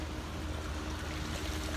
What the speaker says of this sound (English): You got the water going over there.